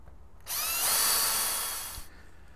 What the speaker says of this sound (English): so we'll drill out to 10 mil.